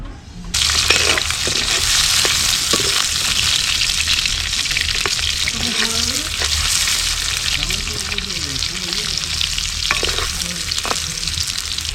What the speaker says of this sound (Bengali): পনিরটা আমরা হালকা করে ভেজে নেওয়ার জন্য কড়াই চাপালাম